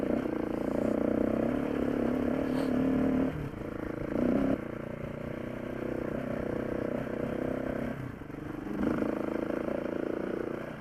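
A KTM motorcycle rides along a dirt trail, its engine droning steadily with small shifts in pitch, mixed with wind buffeting and scraping clatter from the ground.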